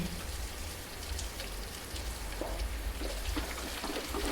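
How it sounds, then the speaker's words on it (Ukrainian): Steady rain falls as a soft, even hiss across the whole stretch, with scattered drops pattering nearby and no voices, used as a calm sleep meditation backdrop in a forest setting. "кожен звук дощу дарує тобі спокій"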